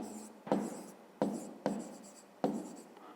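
Pen scratching across notebook paper while working a fifth-grade maths exercise, in four or five quick, close strokes separated by brief pauses, each with a sharp onset that fades away.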